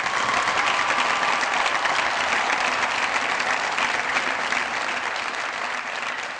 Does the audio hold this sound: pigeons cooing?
no